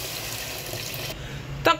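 Water running into a pot for Filipino monggo with ground pork and chili flakes, a steady close splashing wash lasting the whole moment, with a brief louder clatter near the end.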